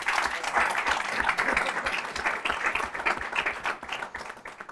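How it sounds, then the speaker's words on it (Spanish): An audience at a Spanish-language lecture on ageing applauds a professor, with dense, loud clapping from many hands sustained for several seconds and no talk over it. "Yo le pediré un aplauso para el profesor."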